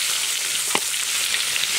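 Spice masala for a prawn curry fries in a pan with a steady, close, hissing sizzle and a few faint stirring taps, no voices.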